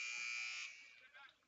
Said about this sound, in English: here as the buzzer sounds at Logan Field.